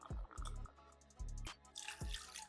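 Water is poured into a pot holding passion fruit pulp and seeds while a Pornstar Martini is being made, giving short splashing gurgles in a few quick bursts, fairly quiet and close, with no voices.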